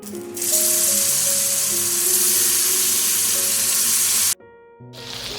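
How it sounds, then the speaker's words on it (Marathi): Sabudana vadas slide one at a time into hot oil for shallow frying, setting off a loud, dense, steady sizzle with faint clinks of a utensil. The sizzle cuts out abruptly near the end and then resumes more quietly. "आता एक एक करून आपण वडे तेलात सोडूया."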